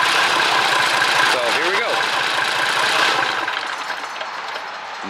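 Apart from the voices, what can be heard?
Mercedes Unimog 416 diesel engine starting and idling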